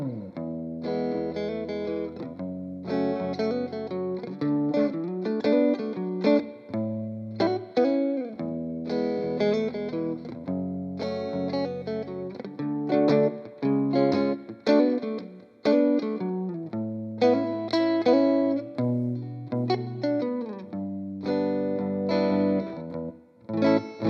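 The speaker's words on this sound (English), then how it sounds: "Starting with just the neck pickup, you get a deep tone indicative of vintage Fenders." A 1966 Fender Mustang electric guitar on its neck pickup plays a deep, bluesy lead with chords and bent notes, given a chorus-like shimmer and slight grit, played alone with no talk.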